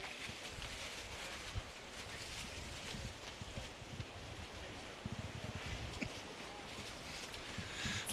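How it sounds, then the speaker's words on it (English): A constant low rush of wind at Jacksonville Beach, Florida, during a surf competition, with faint gusts and scattered bumps, fairly quiet and continuous throughout. "please disregard the background noise. It's really windy."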